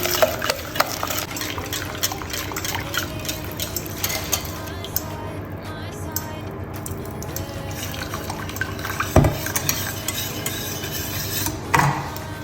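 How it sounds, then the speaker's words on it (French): Hot lemon juice with melted sugar and butter poured onto a whisked egg and sugar mixture for lemon meringue tart cream, a continuous close liquid splashing with light utensil clinks against the bowl, no voices. "on verse le jus qui a bien chauffé, donc le jus de citron, sucre, beurre sur notre mélange d'œufs-sucre"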